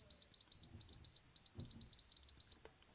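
Zoyi ZT-MD1 LCR tweezers sounding their continuity beeper: a run of about ten short, clean high-pitched beeps in quick, slightly uneven rhythm, close and clear over faint room noise.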